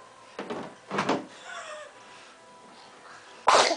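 A few short, sharp bursts, like sneezes or coughs, with a quiet pause between them and a final loud burst at the end.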